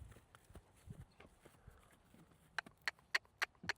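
An AQHA horse's hooves step on the lunge line over ground with logs, giving soft irregular clip-clop thuds that end in a few sharper distinct footfalls, faint and close.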